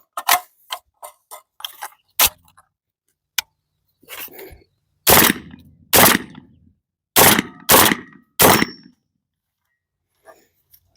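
A Tokarev Tar 12 shotgun fires Fiocchi White Rhino 2 3/4 inch, 1 1/8 ounce 7.5 birdshot loads outdoors, several loud sharp blasts spaced about a second apart amid quieter mechanical clicks and clanks of the action.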